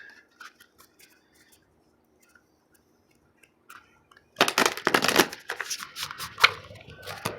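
Tarot cards being shuffled, a dense riffling rustle that starts abruptly partway through after a few faint handling sounds and carries on loud and close, with no voices.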